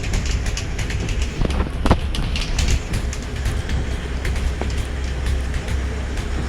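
Inside a moving train in Malaysia, a continuous low rumble and rattle carry on steadily, with occasional sharp clanks and knocks from the carriage.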